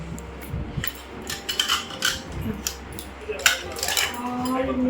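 Small bowls and plates handled close by, giving light irregular clinks and taps of crockery over several seconds, with soft rustling between the knocks.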